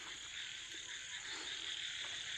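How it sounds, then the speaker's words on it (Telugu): Frogs croak at night in a dense, steady chorus heard from some distance, with an even insect-like shimmer and no talking over it. "కప్పలు ఎట్లా మొత్తుకుంటున్నాయి చూసిరా"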